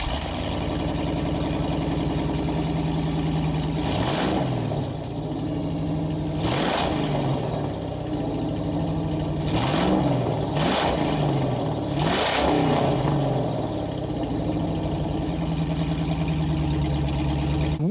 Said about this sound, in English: trying to start this abandoned tractor for the first time